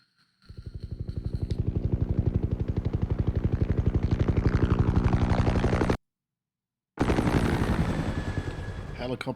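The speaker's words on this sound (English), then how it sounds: "Helicopters, bank guards getting shot in the face." Helicopter rotor chopping loudly and steadily in Batman: The Telltale Series, with bursts of gunfire, a brief cut to silence, then the action resumes.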